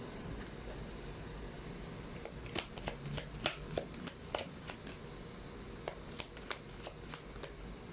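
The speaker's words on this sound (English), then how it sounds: "Let's pull up another set of cards." Tarot cards are shuffled by hand in a quick run of crisp, riffling snaps that come in rapid bursts close by and moderately loud, with no talk over them.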